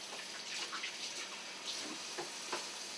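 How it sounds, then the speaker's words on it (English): Hands being washed under running tap water in a home kitchen, a faint steady stream with soft splashes and rubbing. "Let me just wash my hands real quick."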